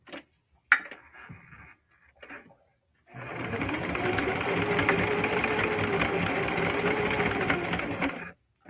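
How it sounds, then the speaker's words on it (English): A Singer Heavy Duty sewing machine stitches a fabric bag in one continuous, fast whirring run of about five seconds, preceded by a few brief handling taps and faint rustles. "I'm gonna sew it down straight."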